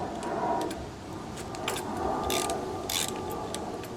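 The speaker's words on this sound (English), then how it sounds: "I need the ratchet for this to get it going." Ratchet turning a bolt on a lawn mower during carburetor removal, quick clicking pawl bursts in short uneven runs over a low background hum, close-up with no talking.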